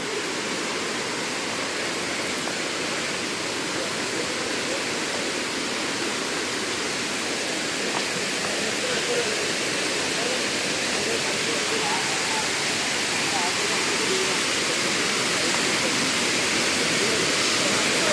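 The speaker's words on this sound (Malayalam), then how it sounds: "ഇത് ജസ്റ്റ് വെള്ളം ഒഴുകുന്നതേ ഉള്ളൂ" Water flows over rocks in a constant, rushing wash, steady and fairly loud from start to finish without a break.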